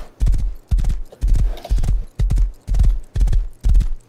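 A horse in a video game trots on hard ground, a steady series of heavy, close clip-clop hoof strikes in an even rhythm, loud and with no voices.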